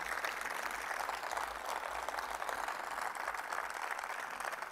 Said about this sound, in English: No, we need stronger applause.